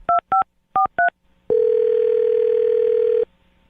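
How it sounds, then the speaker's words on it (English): A telephone dials a number with four short, evenly spaced touch-tone beeps, followed by a loud, steady tone lasting under two seconds that cuts off abruptly. "I'm going to dial his phone number right now"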